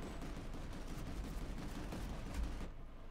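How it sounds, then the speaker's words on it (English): Steady rattling gunfire from a walker turret in the Planetside 2 game, a continuous fairly faint barrage of distant-sounding shots that cuts off near the end. "Walker's shooting on me."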